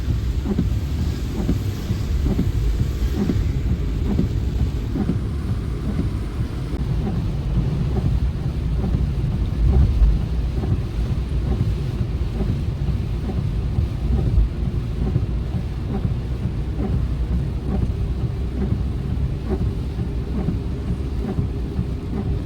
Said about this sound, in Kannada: ಸಖತ್ ಜೋರಾಗಿ ಮಳೆ ಹುಯ್ತಾ ಇದೆ